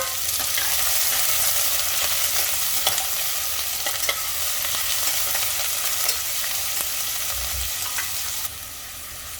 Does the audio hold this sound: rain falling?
no